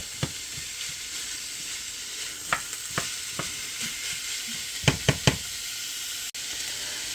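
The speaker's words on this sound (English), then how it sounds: "Get that 1 pound of hamburger in here and fry that up." A pound of hamburger meat frying in a pan, giving a steady soft sizzle with a few sharp knocks and taps from a utensil scraping and stirring, quiet and close with no talking.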